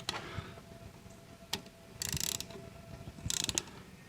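A ratcheting wrench works on disc brake parts for a 1948 Willys CJ2A Jeep, giving quiet scattered clicks and two bursts of rapid ratchet clicking, close by, with faint background noise.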